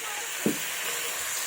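Oil hisses steadily in a pan as spice paste of dried chilli, ground ginger and ground cumin cooks in mustard oil, with one brief soft knock of a spatula partway through.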